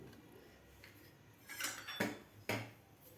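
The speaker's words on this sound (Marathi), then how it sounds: "तर आता आपण झाकण काढून बघूया" Metal lid of a cooled pressure cooker being handled and lifted off, a few quiet clinks and a sharper metallic clatter near the end, otherwise near silence.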